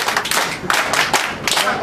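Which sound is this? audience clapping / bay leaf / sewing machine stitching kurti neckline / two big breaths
audience clapping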